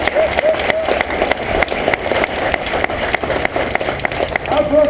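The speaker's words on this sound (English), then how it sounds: "Let's give him a round of applause." Applause from the crowd at a military retirement parade for a chief master sergeant, a dense, steady wash of many hands clapping at close range with no voice over it, holding loud for the full few seconds.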